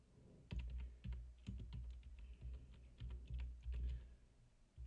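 Computer keyboard typing during a PvP game session, quiet irregular key clicks and clatter in short bursts, close and soft, with no talking.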